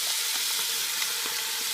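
Pork sizzles loudly in peanut oil in a pan, with a dense continuous frying hiss and occasional soft clicks as the meat is tossed around.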